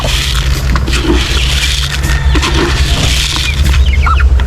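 Chickens cluck steadily and close at hand amid a busy farmyard, with a continuous low background hum and no one speaking.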